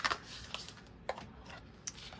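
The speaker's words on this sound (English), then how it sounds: "let me shuffle this deck" Cards are shuffled quietly up close, with soft papery riffles and a few sharp flicks spread over a couple of seconds.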